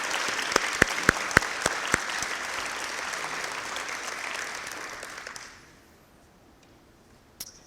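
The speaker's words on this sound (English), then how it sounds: "let's give our community members and presenters a round of applause." An audience at a high school senior awards ceremony claps in a sustained round of applause with a few sharp nearby claps standing out, then fades quickly into near silence with one last stray clap.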